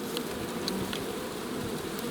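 Honeybees humming inside a hive, a dense continuous buzz close up with occasional sharper passes of individual bees, no voices.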